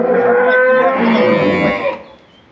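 A single loud, drawn-out moo from a dairy cow close by, lasting about two seconds before fading into quiet.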